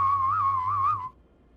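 A person imitates a buzzing fly by whistling through their teeth, producing a single wavering, tonal whistle held for about a second before cutting off, close and clear.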